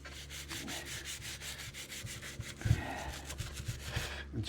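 An old, worn steering wheel scrubbed briskly by hand, a close, continuous rhythmic rubbing and scouring with no voices.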